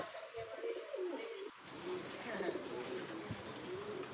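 Pigeons coo softly and repeatedly nearby, low throaty calls rolling over a quiet background.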